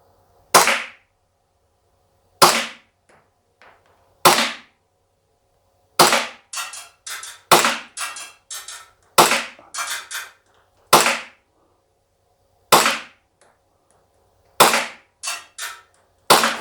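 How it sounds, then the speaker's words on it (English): A G&G Piranha TR gas blowback airsoft pistol fires ten sharp, snappy cracks at irregular intervals, each shot followed by a short mechanical clatter, close and clear with no talking. "We're gonna shoot the second gun here"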